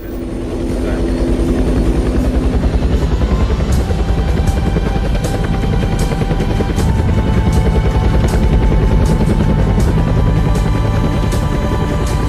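A rescue helicopter lifts a casualty aboard during a team exercise. Its loud, steady rotor and engine roar runs close and unbroken through the whole stretch, with a rhythmic thudding beat.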